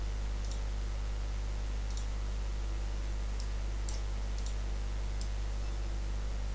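Computer mouse clicks while playing a Fallout game, about seven light, sharp clicks spaced a second or so apart, faint over a steady electrical hum and hiss.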